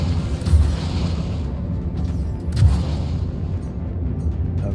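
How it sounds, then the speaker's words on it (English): Missiles striking a target in a space combat game, fired from an Origin 400i ship, with two deep booming impacts about two seconds apart over a low rumbling background and no talk. "Oh, these missiles are hitting the target."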